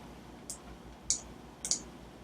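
Several crisp computer mouse clicks, a single one followed by two quick pairs, sound faint and close in an otherwise quiet room.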